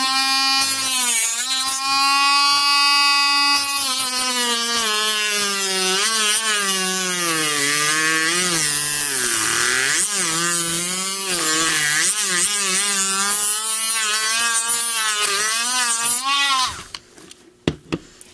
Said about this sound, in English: take your Dremel or sandpaper and sand it down